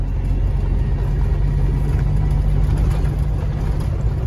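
A truck drives off-road, its engine a steady, loud low drone with a constant hum and no break, running alone without talk.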